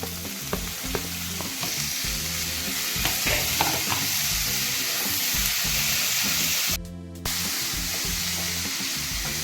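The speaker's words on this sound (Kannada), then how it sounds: "ಟೊಮ್ಯಾಟೊ ಮೆತ್ತಗಾಗೋವರೆಗೂ ಇದನ್ನು ಚೆನ್ನಾಗಿ ಫ್ರೈ ಮಾಡೋಣ." Tomatoes for paneer masala frying in a pan, a steady loud sizzle with repeated stirring scrapes throughout, broken near the end by a short burst of harsh hiss.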